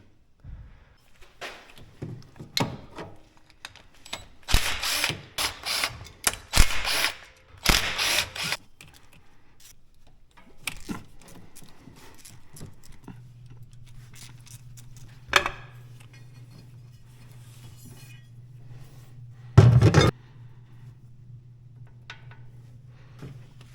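A ratchet working on the valve cover bolts of a Bobcat engine with a backfire problem, giving bursts of rapid clicking and clattering, metallic clunks, and a long low hum later on with occasional sharp thuds.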